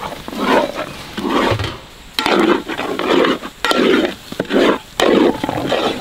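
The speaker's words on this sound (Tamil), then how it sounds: "இப்போ கிண்டிக்கிட்டே இருக்கு." A ladle stirs a large batch of jackfruit kesari with three kilograms of added sugar, producing loud, rhythmic scraping strokes against the heavy vessel, repeating roughly every half second.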